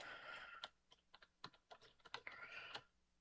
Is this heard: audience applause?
no